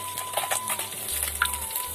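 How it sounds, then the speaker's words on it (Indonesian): Betok fish fry in hot oil in a pan, giving a steady crackling sizzle with light stirring taps and scrapes, close and unbroken. "goreng ikan betok nih beraya"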